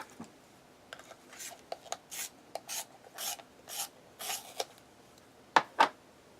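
A drawing pencil being sharpened, a series of short rasping scrapes in uneven bursts, close and fairly quiet, ending with two sharper strokes.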